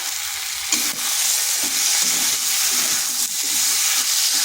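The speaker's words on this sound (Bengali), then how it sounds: "এটাকে এইভাবে বেশ কিছুক্ষণ কষিয়ে নিতে হবে।" Pumpkin sautés with chilli powder and salt in a hot pan, a loud, dense hissing sizzle running steadily with soft stirring scrapes woven through it.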